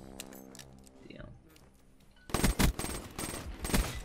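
Rapid automatic gunfire in a 1v1 Hardpoint video game match, loud close bursts breaking out after a stretch of someone talking.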